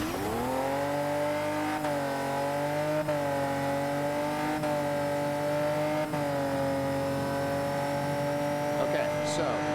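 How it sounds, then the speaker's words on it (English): Race car engine held at high, steady revs through a turn, its harmonic drone sliding with brief upshift-like steps every second or so, loud and continuous with no talking. "I'm going to shut up so you can just listen to what the engine does"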